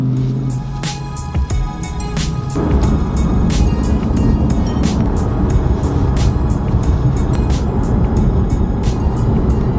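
A stock BMW M4 on a drive, heard from inside the car: a loud, steady engine roar that rises and thickens after a couple of seconds as the car accelerates, with a faint ticking pulse running through it.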